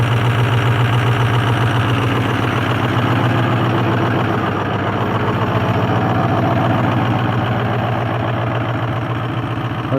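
A Ford Super Duty 6-liter engine idles right after a cold start in a northern Ontario winter. It makes a loud, steady, close-up rumble with an even low throb that continues for the whole span, with no voices.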